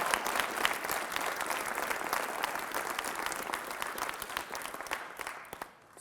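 A high school audience claps steadily in a dense, continuous round of applause that tapers off toward the end, with a few faint voices mixed in.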